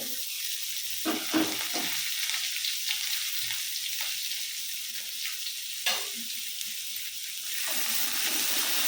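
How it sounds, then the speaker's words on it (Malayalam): Onion, garlic and green chillies sautéing in a pan: a continuous oily sizzle close up, punctuated by several scraping stirs of a utensil, the frying growing slightly louder toward the end. "ഇനി നമുക്ക് സവാളയും വെളുത്തുള്ളി അരിഞ്ഞത് അതിട്ട് കൊടുക്കാം നല്ല പോലെ ഒന്ന് വാടി വെച്ചേ"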